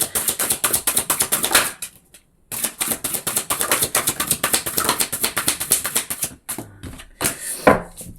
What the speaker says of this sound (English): Just give these a little shuffle.